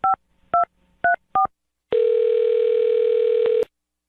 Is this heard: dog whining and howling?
no